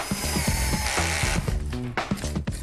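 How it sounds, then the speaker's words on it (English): A power tool whirs continuously and loudly at close range, its pitch wavering as it drills out large wall plugs from hard material. "we're going to drill out these great big raw plugs"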